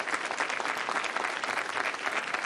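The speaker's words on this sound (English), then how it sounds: "Please give them a round of applause as they come." Sustained, dense applause from a seated audience at a city council meeting, steady and loud throughout with no talk over it.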